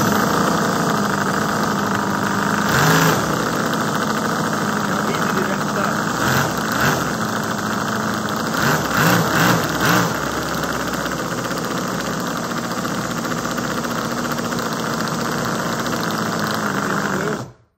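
Toyan X-Power V8 model engine running steadily, a dense continuous buzzing drone with brief revving bursts, loud and close with no talk over it.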